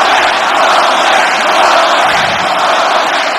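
Arena crowd in the WR3D wrestling video game cheering steadily, a dense broadband roar that holds at even loudness throughout with no clear talk over it.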